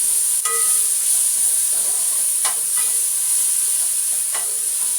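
Spicy biryani being stirred in a pot with a spoon, giving scraping stirs under a steady loud sizzle and hiss of frying, with a few sharper scrapes spread across the stretch.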